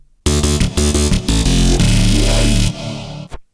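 A heavily distorted, gnarly synth part, frozen to audio and run through Trash distortion, plays loud and alone in choppy stuttering bursts that merge into a sustained harsh roar before cutting off abruptly.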